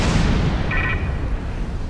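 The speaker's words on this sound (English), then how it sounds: "Fire all weapons!" Starship weapons fire in the Star Trek Online video game produce a loud rumbling blast, followed by a short high whine of an energy beam that trails off under continuing low noise.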